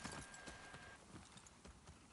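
A horse's hooves clip-clop at a steady walking pace in The Last of Us Part II, a quiet, even rhythm of hoof strikes lasting a couple of seconds with no talking over it.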